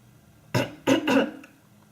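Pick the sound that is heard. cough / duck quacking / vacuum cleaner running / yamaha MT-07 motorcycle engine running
cough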